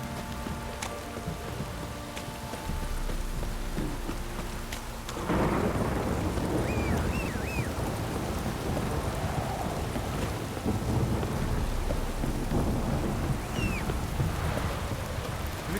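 Heavy rain pours steadily in The Witcher 3 while deep thunder rumbles beneath it, the downpour growing louder partway through, with faint chirps over the constant hiss and no talk.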